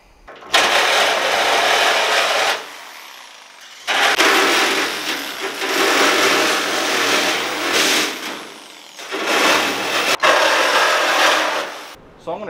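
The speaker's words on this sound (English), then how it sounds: "We're gonna cut it from here and cut both sides out." Wood rungs for a homemade goat hay feeder being sawn through, loud sustained cutting in three long bursts with short pauses between, no talking.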